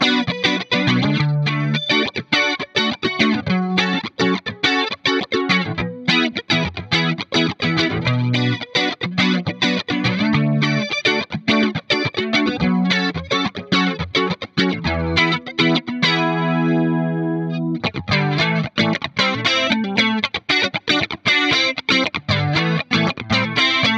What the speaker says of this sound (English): we have a compressor into a Black Twin 2x12 cabinet, bit of chorus as well, and a bit of spring reverb